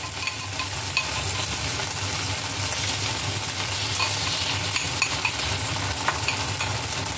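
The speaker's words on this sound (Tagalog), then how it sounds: "Pag ganyan na yung corned beef, ay ihahalo na natin yung ating egg" Corned beef fries in a pan as egg is stirred in, making a loud, dense and unbroken sizzle with small scraping ticks from the spatula scattered through it.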